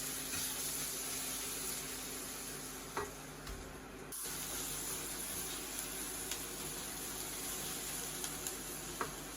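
Chili, garlic and shallots sizzle steadily in a frying pan, a constant crackling hiss with occasional stirring scrapes and small pops.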